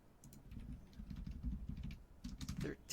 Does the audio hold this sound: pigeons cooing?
no